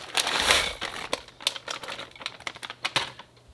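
A 12-ounce bag of frozen vegetables is emptied, giving rapid clattering ticks of hard frozen pieces and crinkling plastic, a dense rush at first, then sparser irregular clicks, close and moderately loud.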